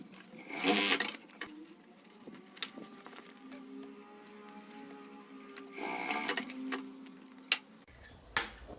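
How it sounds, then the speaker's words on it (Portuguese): A sewing machine runs a safety seam along the side of a unicorn crossbody bag, with a steady mechanical whir and ticking stitch rhythm, quiet and close, and two louder rustling handling bursts near the start and end. "Aí, passa uma costurinha de segurança, tá? Dos dois lados a mesma coisa."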